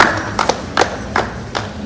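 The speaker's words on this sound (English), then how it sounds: "let's cheer Savita ma'am for that" A few people clap to cheer during an online Pongal celebration, giving four slow, evenly spaced claps that stand out clearly over a steady background hiss.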